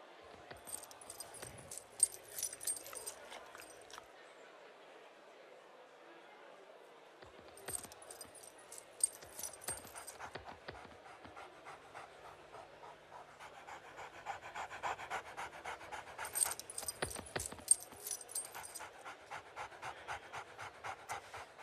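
A dog in an advertisement pants in quick rhythmic bursts, close and fairly quiet, alternating with softer stretches and faint jingling like keys or a tag.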